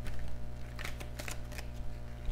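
A deck of tarot cards is shuffled by hand nearby, a quick series of soft riffling bursts over a faint steady hum.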